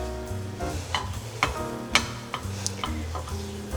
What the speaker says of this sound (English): so you may need to stir it a little bit.